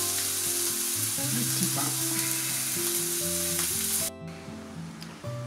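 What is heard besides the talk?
burger steak sizzling while grilling in a pan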